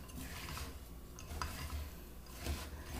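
A spoon stirs butterscotch haystack mixture in a bowl, making faint continuous scraping and soft clicking sounds with a few slightly louder knocks, close by and without talk.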